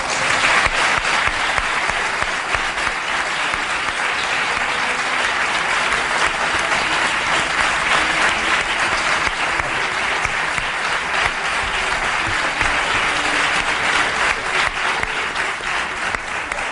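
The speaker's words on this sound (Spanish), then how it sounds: "El aplauso de Málaga para Jesús Callejo." An audience in Málaga gives Jesús Callejo a long, sustained round of applause, dense and loud throughout the hall, with continuous clapping and no pause or speech on top.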